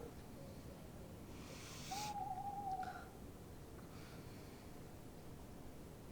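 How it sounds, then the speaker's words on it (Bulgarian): A single owl hoots at night, one drawn-out call rising faintly over a steady hiss of background noise, distant and quiet with no talking. "Тая гадна птица."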